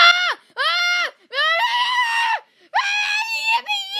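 Repeated harmonic, wailing scream bursts in Minecraft Pocket Edition, four loud cries of about a second each separated by short gaps, with a bleating, voice-like quality.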